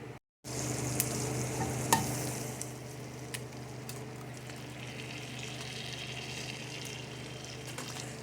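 Hamburger bites sizzle and crackle steadily in a frying pan, a close, continuous hiss with occasional louder pops and stirring.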